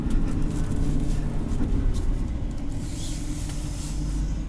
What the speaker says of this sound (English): turn the exhaust brake on